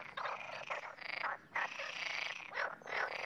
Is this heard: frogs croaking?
yes